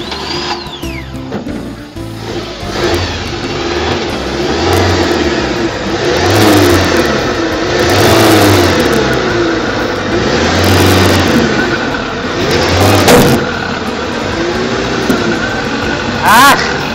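The engine of a homemade Cheburator off-road vehicle revs repeatedly while driving, rising and falling in loud, close surges over a continuous rumble.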